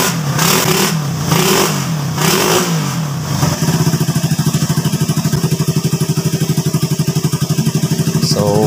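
A motorcycle engine revs in several rising bursts, then settles into a fast, even idle with a rapid chugging pulse, loud and close.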